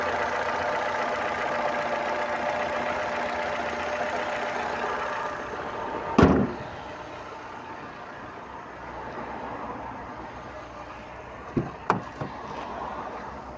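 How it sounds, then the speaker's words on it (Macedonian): A 2009 Peugeot 207 engine idles with a steady, even hum at close range, broken by a sharp thump midway and a few faint clicks and knocks toward the end, with no talking. "Ако можете да забележите, рамномерна работа, активен мотор, мала потрошувачка."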